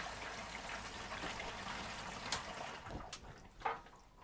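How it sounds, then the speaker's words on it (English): A transfer pump fills a hand wash tank with water, giving a soft, steady rush of flowing water with a few faint knocks and splashes near the end. "turn on the transfer pump, and it will fill the hand wash tank."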